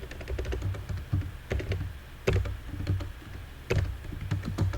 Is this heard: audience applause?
no